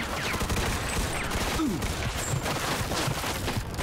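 Thompson submachine gun bursts in a Mafia 2 firefight, dense overlapping gunfire crackling continuously throughout with faint background game noise.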